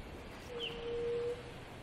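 A single brief bird call from a played ambience recording, faint and short, a thin whistled tone over soft background hiss.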